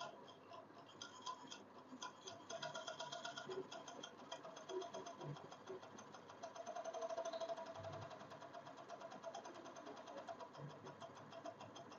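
A Two-Lion overlocking machine runs steadily, stitching fabric, its fast rhythmic ticking and mechanical clatter continuing evenly at close range with no voices.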